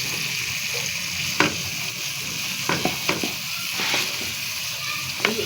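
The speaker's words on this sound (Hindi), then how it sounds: "अब हम इसके अंदर शलजम डाल देते हैं।" Turnips sizzle in hot ghee for a spiced turnip-and-pea sabzi: a steady, crackling fry hiss with a few sharper pops and spatters scattered through it, close and fairly loud.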